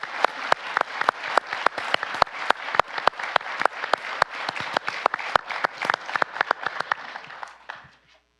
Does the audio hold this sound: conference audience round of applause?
yes